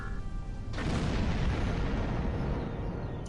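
A sudden loud boom in a Star Trek Klingon Empire video game erupts into a sustained, rumbling roar that fills the space and slowly tapers, close and heavy, over a faint electronic hum.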